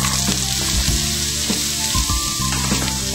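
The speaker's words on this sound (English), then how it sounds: "I'm going to saute them up. First, a little olive oil. I'm going to add the onion." Onions sautéing in olive oil in a pan give a steady, close sizzle and crackle that runs the whole time, with a few soft stirring scrapes and no voices.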